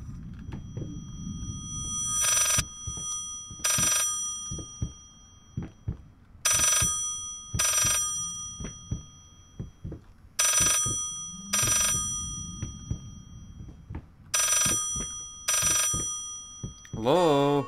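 An old telephone rings repeatedly in the horror video game Layers of Fear, paired bursts of bright bell tone recurring at steady intervals, loud and close, with low rumbling ambience and movement between rings.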